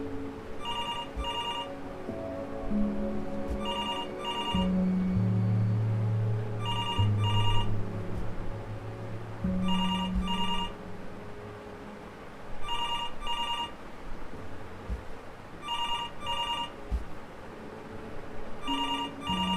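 A telephone rings repeatedly in the video game Before Your Eyes, a bright trilling bell in evenly spaced double bursts over a low ambient music bed, with no talking.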